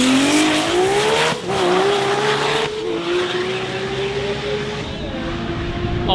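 Race car at TX2K, an H-pattern stick shift car running well over 200 miles an hour, screaming engine at high speed, loud and sustained with pitch dips between gear shifts.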